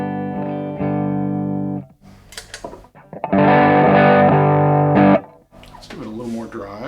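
An electric guitar in bypass, untouched by the Truetone V3 Jekyll & Hyde, Route 66 or VS-XO overdrive pedals, rings out in two loud strummed passages, with a voice speaking in the pauses between them.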